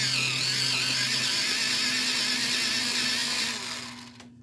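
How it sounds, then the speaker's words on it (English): A pencil sharpener grinds a light cerulean blue colored pencil in a steady, close whirring buzz for about four seconds, then stops abruptly. "Let me sharpen that one."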